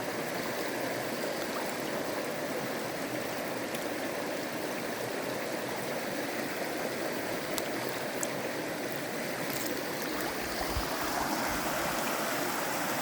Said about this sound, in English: So this creek belongs to you, doesn't it, Owen?